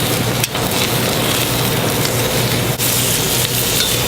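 Seasoned meat sears in a hot pan in a French bistro kitchen, giving a loud, steady sizzle that runs without a break the whole time, close up and alone.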